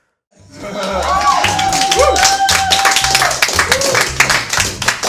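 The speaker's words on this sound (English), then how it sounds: "Wilbur, more clapping for Wilbur." An audience claps together, a dense, loud patter of hands that starts abruptly and carries on steadily, with a voice heard briefly over it.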